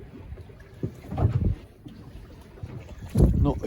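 Wind gusting around a small fishing boat off the Suffolk coast on a cold spring day, a low rumbling buffet that rises in two stronger surges, with faint water movement beneath and no talk.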